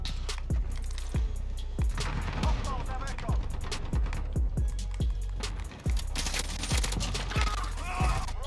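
Automatic rifle fire in Modern Warfare, with an M4A1 setup, as a steady series of sharp close shots at a regular rhythm. A brief dip occurs midway, and game effects play under it.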